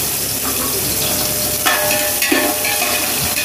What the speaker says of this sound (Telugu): ఇప్పుడు మా మమ్మీ ఆనియన్స్ వేసేసుకుంటున్నారు అండ్ చిల్లీస్ కూడా వేసేసుకుంటున్నారు.